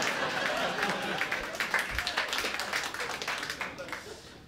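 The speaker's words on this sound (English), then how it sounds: "half of you applauded that" Audience applause at a stand-up comedy special, a steady dense patter of many hands clapping that continues throughout and fades slightly toward the end.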